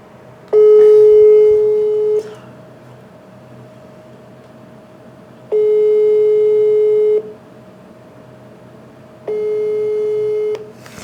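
A phone's outgoing ringback tone sounds three times, each a steady, loud electronic tone about a second and a half long, separated by quiet gaps.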